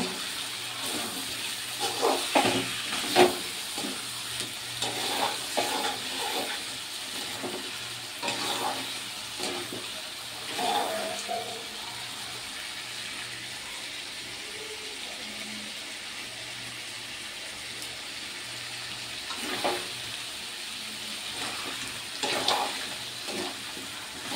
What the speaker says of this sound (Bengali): আমার এই চর্বিগুলো ছিল ঘরে, তাই একসঙ্গে যে কচু দিয়ে রান্না করে নিচ্ছি